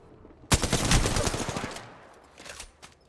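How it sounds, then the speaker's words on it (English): Automatic gunfire in an online video game erupts in a sudden loud rattling burst, rapid shots for about a second and a half before fading, followed by a few scattered shots. "Shots fired and they're hitting me"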